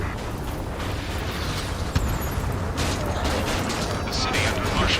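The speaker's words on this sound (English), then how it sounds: "Gunfire and the roar of jets echoing through the streets" Rumbling roar with dense crackling bursts and one sharp crack, consistent with gunfire and jet engines heard at night over a city under martial law, continuous and fairly loud throughout.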